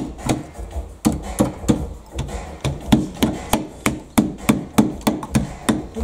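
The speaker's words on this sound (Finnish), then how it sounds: "Oletko nähnyt ennen kuin käyttää rälläkkää vasaran?" Angle grinder used as a makeshift hammer, striking repeatedly during a car rebuild, with about a dozen sharp knocks in a steady rhythm, close and fairly loud with no talk.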